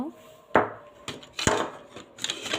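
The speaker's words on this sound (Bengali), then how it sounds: "ব্যাম্বো মানে বাঁশের চামচ বাঁশের চামচগুলো নিয়েছি আমি" Bamboo spoons clack and knock together as they are handled, three or four sharp wooden taps spaced a moment apart, close and distinct in a quiet room.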